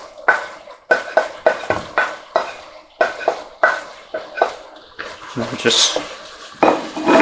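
Onion, mushroom and garlic mixture being stirred in a pan, with repeated utensil scrapes and clinks against the metal in a steady rhythm, close up, with brief speech in between.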